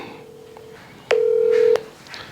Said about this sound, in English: I'll call my friend Ian now.